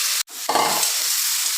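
A crab marinade stir-fried in mustard oil with cinnamon and cloves sizzles loudly and close, broken by a brief sharp gap and then a surge of hissing as it is stirred, with no voices.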